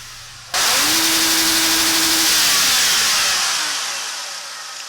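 A car engine bursts to life and revs hard, a loud roar that holds steady before the pitch slides downward and fades slightly.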